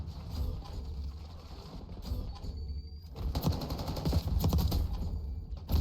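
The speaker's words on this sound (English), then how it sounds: "Not a bad gunfight." Video game gunfight with a quick rattle of gunfire bursts and clicks, moderately loud amid constant game background noise, growing busier in the second half.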